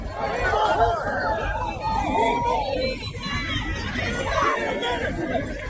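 A crowd at a political rally just after a shooting, dense overlapping chatter and shouting voices in a continuous steady hubbub with no single speaker standing out.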